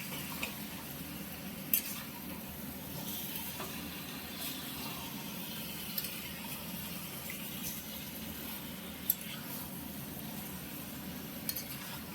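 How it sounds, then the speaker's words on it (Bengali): Mutton sautéed and stirred in a pan for a home-cooked mutton curry: a steady, faint, broadband sizzle with a few sharp scraping clicks from the spoon at irregular intervals. "মাংস দিয়ে ভালো করে আরো কষাতে হবে"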